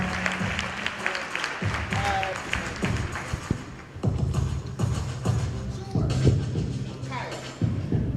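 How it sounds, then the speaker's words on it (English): Audience applause at the BMEC 2017 event, a steady wash of many hands clapping for a performer across the whole stretch, fairly soft and a little distant, with voices and shuffling mixed in beneath it. "Give her a round of applause"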